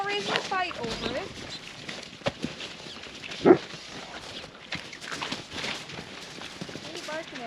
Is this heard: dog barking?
yes